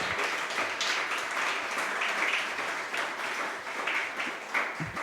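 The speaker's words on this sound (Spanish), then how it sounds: "¿Puede darle un aplauso a ese maravilloso Dios que lo hizo?" A church congregation at a Spanish-language sermon claps together in a continuous, moderately distant wash of applause that holds steady throughout.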